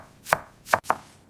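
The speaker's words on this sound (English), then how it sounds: "Can you cut these vegetables for me?" A knife chops vegetables into thin slices on a cutting board: three crisp, close knocks, the last two in quick succession, with nothing else heard.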